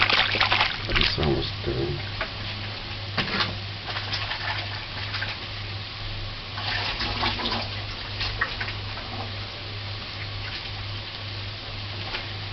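Running water splashes from a tap in bursts as fish is rinsed, with a low steady hum underneath and a person speaking briefly.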